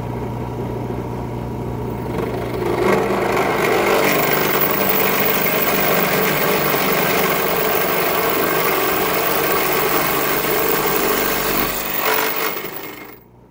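Power tool finishing a cut through a clamped wood workpiece while building a wine rack, a steady loud motor whine running continuously for about ten seconds before winding down at the end.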